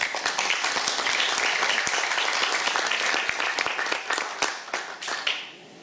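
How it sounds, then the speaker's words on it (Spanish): An audience at a cultural centre event applauds Juan Manuel Chávez. The dense clapping holds steady, then thins into scattered individual claps and tapers off after about five seconds. "Pongo un fuerte aplauso a Juan Manuel Chávez"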